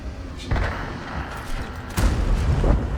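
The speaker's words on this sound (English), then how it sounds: "Now I will try to shoot this EBR" A tank gun firing at an EBR in World of Tanks, two heavy booming shots about a second and a half apart over a rumbling in-game background.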